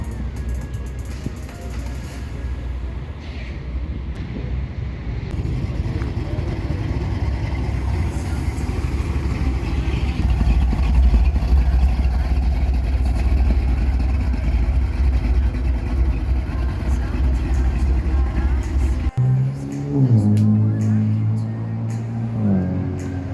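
A C4 Corvette and other muscle cars idle at a muscle car and hot rod meet, a steady loud engine rumble for most of the stretch, ending with a brief tonal shift near the close.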